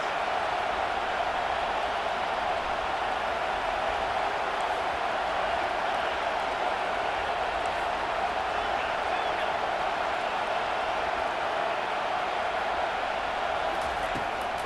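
Stadium crowd noise from EA Sports College Football 25, a dense, steady roar of many voices that holds at a constant level throughout without breaks.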